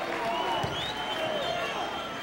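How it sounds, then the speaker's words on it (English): Crowd at a college women's basketball game, Moravian, standing and applauding near the end of the game, a steady wash of clapping and cheering mixed with voices throughout. "Standing ovation."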